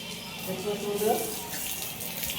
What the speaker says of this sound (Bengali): এদিকে বারান্দায় আমরা জল দিয়ে দিচ্ছি